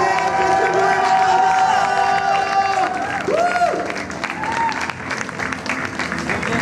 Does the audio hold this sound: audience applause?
yes